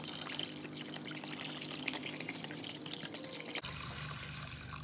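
Vinegar glugs and splashes from a gallon jug into a container holding an old rusty J.H. Williams wrench, a steady close pour that stops abruptly near the end, no talking.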